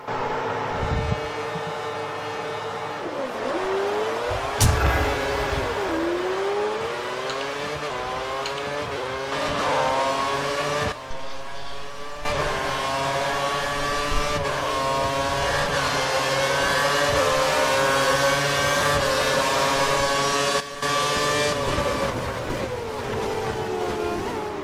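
A grid of race cars in a racing video game roars off the start, many engines revving and climbing through gears together, layered whining tones with occasional sharp clicks.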